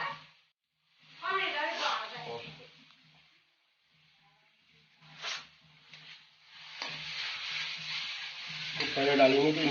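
Ginger paste fries in butter chicken gravy, a hissing sizzle broken by pauses, returning stronger and steadier toward the end while someone talks over parts of it.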